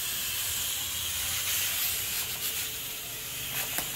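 A pressure cooker releases steam while cooking feijoada on a rural farm, giving a continuous loud, close hiss that holds steady for the whole stretch. No one speaks.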